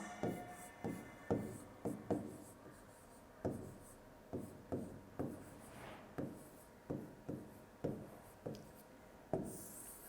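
Pen or marker strokes write numbers during a second-grade addition lesson, a quiet, close series of short scratchy taps and scrapes in an uneven rhythm.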